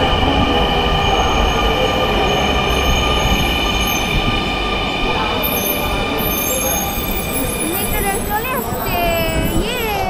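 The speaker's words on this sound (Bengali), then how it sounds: "এটা হচ্ছে ফিরতি ট্রেন, যেটা হচ্ছে মতিঝিল থেকে চলে আসলো।" A Dhaka metro rail train arriving from Motijheel rolls into the station with a steady heavy rumble and rising wheel squeal near the end, loud and continuous, with faint voices in the background.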